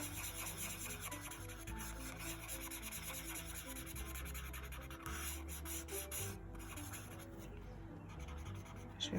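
A coloured pencil blends skin-tone edges on paper with soft, continuous rubbing strokes, close and steady, with faint background sound beneath.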